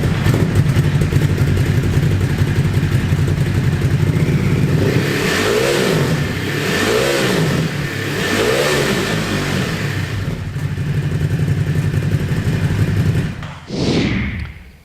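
A Ducati Hypermotard 950 SP motorcycle engine revs hard and accelerates in a loud, continuous roar with rising and falling pitch sweeps, then drops off sharply near the end as the throttle closes.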